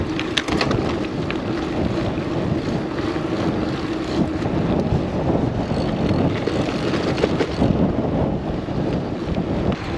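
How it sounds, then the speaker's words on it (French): Strong wind gusting at up to 60 km/h buffets the microphone while a gravel bike rolls along an outdoor route, a steady, loud rushing roar with low rumble that persists through the whole stretch without voices. "Le seul inconvénient de cette journée, il y a du vent. Des rafales à 60 km/h."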